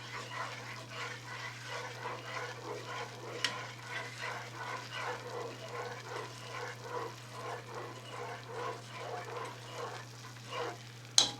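A spoon swishes dried oregano through homemade marinara sauce in a pot, a steady run of soft scraping strokes over a constant low hum, close by, with a brief clatter near the end.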